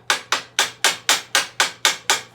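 A small ball peen hammer tapping on paper to cut a gasket: nine crisp, evenly spaced strikes at a steady quick rhythm, each sharp, close and fairly loud with a brief decay.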